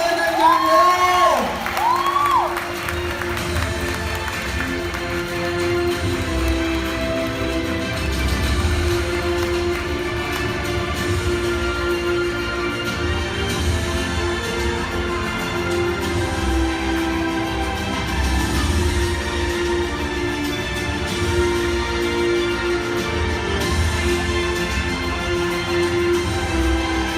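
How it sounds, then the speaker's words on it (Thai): An indoor audience at a company ceremony cheers, whoops and claps to welcome a manager onto the stage, a dense, sustained crowd roar that runs unbroken throughout. "ขอเสียงปรบมือดังๆเลยครับ"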